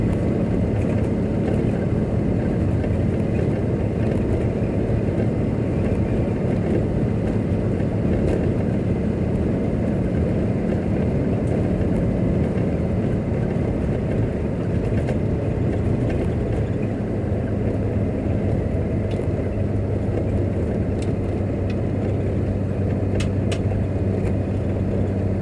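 Work van cruising along a main road, a steady loud engine and road drone with tyre rumble that holds constant throughout, with no talk.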